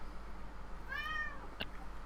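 A domestic cat lets out a single drawn-out, rising-and-falling meow, fairly faint against a low steady hum, followed by a brief soft click.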